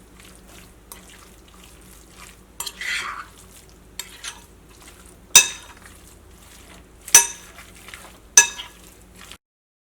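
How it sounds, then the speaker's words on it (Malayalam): Beef is mixed with rice flour and cornflour coating in a bowl, quiet wet squelching and rustling in separate bursts with a few sharp louder clacks, close with pauses between. "ഫസ്റ്റ് നമുക്കിത് നന്നായിട്ടൊന്ന് മിക്സ് ചെയ്യുക."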